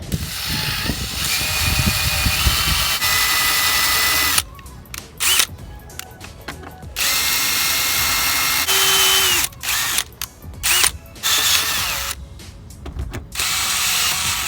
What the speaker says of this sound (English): which is drilling out this plate